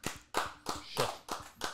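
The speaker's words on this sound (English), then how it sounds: "where's the claps?" Six sharp claps from a small group ring out in a steady, slightly uneven rhythm. Each one is bright and close, with short quiet gaps between them, and no one speaks.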